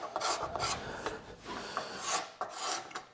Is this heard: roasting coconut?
no